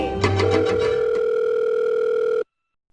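A steady telephone dial tone rings out loud and alone while a call is placed, with a few brief tone blips at the start, then cuts off abruptly.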